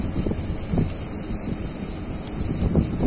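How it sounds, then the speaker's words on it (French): Steady wind rumbles and buffets against the microphone outdoors beside a car on a hot day, a constant broadband roar with a few stronger gusts and no talk. "désolé, il y a un petit peu de vent"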